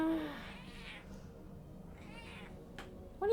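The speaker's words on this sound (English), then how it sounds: "Oh, it's a kitty." A house cat gives a couple of soft, drawn-out meows at close range, with faint background noise between them.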